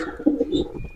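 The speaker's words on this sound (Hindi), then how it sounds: "हमारे कबूतर ने बच्चा निकाल लिया" A pigeon coos softly up close, a short low throaty burble lasting about a second.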